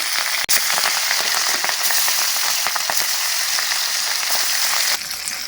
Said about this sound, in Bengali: এরপর একটা একটা করে মাছ তেলের মধ্যে ছেড়ে দেবো